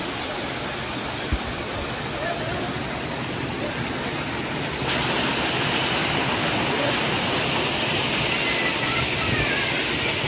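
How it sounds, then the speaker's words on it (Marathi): Anandwadi waterfall near Neral and Karjat pours in a dense, unbroken roar of falling water that holds steady and close throughout, growing slightly brighter partway along, with no voices over it. "काय सुंदर धबधबा आहे."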